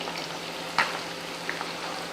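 Chicken pakoda pieces fry in hot oil with a steady, close sizzle and bubbling, broken by a brief louder crackle near the start, with no talking.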